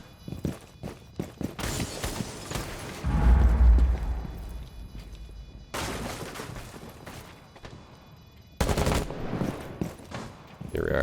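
Gunfire in a first-person shooter match, heard as bursts of shots and clattering in-game effects that come in separate loud clusters with quieter stretches between, mixed with footsteps.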